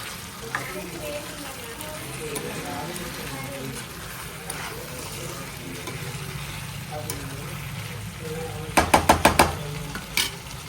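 Chopped cucumber and tomato sizzle steadily in oil in a pan, with a burst of quick clattering stirs near the end and someone talking over the cooking.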